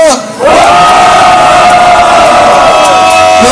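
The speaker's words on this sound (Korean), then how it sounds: "모두 큰 함성으로 마지막 정리를 하도록 하겠습니다. 함성 시작!" A large outdoor crowd at a candlelight protest rally lets out a sustained collective roar. The shout swells suddenly after a brief lull, then holds loud and steady with overlapping voices.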